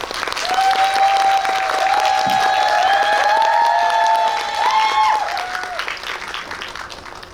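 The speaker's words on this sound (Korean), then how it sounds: "두 분의 게스트를 큰 박수로 환영해 주시기 바랍니다." A theater audience at a Megabox COEX guest-visit screening of the film Wild Thing applauds loudly to welcome the director and an actor: dense, sustained clapping with some cheering that holds steady for about seven seconds before easing.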